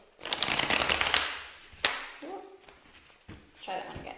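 Rapid riffling bursts of cards being shuffled, close up, in a couple of quick runs, with a short spoken phrase between them.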